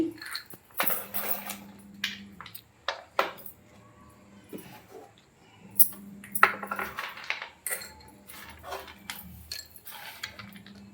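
Knife chopping dry fruits and nuts on a board for jaggery rava laddu, irregular sharp taps and clatters in bursts with pauses between, close and fairly clear.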